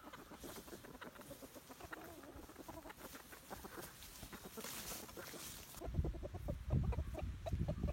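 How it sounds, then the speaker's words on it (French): A rooster gives a quick series of soft, rapid clucking calls, close by, calling hens to food he has found, with a louder burst of clucks near the end. "ça, c'est Tinto qui est en train d'appeler des poules parce qu'il a trouvé de la nourriture pour eux"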